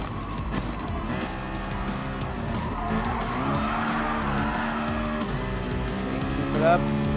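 Race cars in the Gran Turismo Sport video game, including a Ford GT and a GTR, roar with dense engine drone and squealing tires throughout, while a voice talks over the action.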